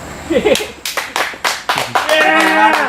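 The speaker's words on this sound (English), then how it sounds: "Rousing round of applause." Clapping from a wrestling event crowd, a series of sharp, fairly loud claps coming in uneven bursts, with voices and some tonal background sound mixed in toward the end.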